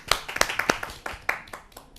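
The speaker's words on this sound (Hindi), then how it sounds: "आइए स्वागत करते हैं उनका एक जोरदार तालियों से" Sparse hand claps from a small audience at a Hindi poetry gathering welcoming a poet, a dozen or so uneven, fairly close claps that taper off quickly.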